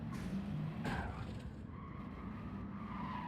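A race car in a racing video game brakes hard into a corner, tires skidding and squealing faintly beneath a steady engine drone.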